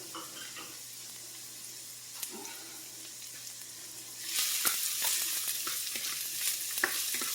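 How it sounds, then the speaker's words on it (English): Onions cook in extra virgin olive oil for a cauliflower stuffing, with a quiet background hiss at first that swells into a loud crackling sizzle partway through, and stirring scrapes audible over it. "Don't you just love the smell of onions when they're cooking in some extra virgin olive oil?"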